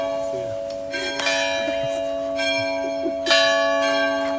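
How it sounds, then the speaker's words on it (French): Church bells ring out in several resonant strikes, their tones lingering and overlapping, with faint sounds in the background. "Il y a toutes les cloches qui viennent résonner."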